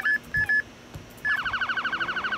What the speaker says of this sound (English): Put on your siren,